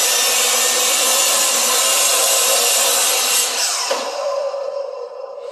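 A miter saw cutting through roughly an 8-inch piece of wood, a loud close whining cut that runs steadily, then fades as the blade finishes and spins down.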